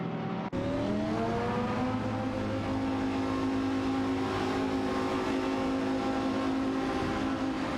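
Porsche 911 997 GT3 RSR and Lamborghini Gallardo GT3 race cars in a racing video game, engines holding a steady loud drone with layered rising tones after a brief cut at the start, no talk.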